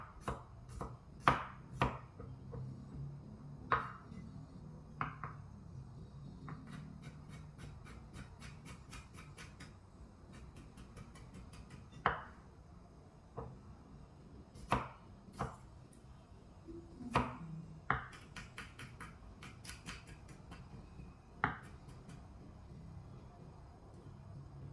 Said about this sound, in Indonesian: kemudian bawang putih kita cincang sebanyak 4 siung